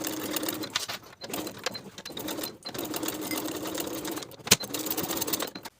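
A domestic sewing machine basting pinned side panel fabric of a weekender bag with a quarter-inch seam allowance, whirring in short stitching runs separated by brief pauses, with a sharp click midway.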